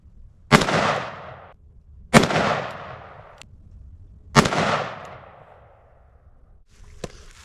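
Three loud, sharp .44 Magnum Smith & Wesson revolver shots fired outdoors at a coconut, each cracking sharply and then trailing off in a long echo, spaced about two seconds apart, followed by a faint metallic click.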